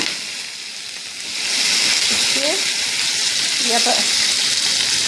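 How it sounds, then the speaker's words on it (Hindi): Chicken sizzling in half a tablespoon of hot oil for patties, a steady close frying hiss that swells louder after a moment and holds, with faint voices underneath. "तो हमने 1/2 टेबल स्पून ऑयल डाला है इसमें और फिर हम अपने चिकन डाल दी है।"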